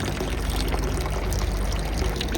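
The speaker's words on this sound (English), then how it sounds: "I wonder if that's spring water." Spring water pours in a Swiss mountain village, a steady and fairly close rushing splash that runs on without a break, with no voices.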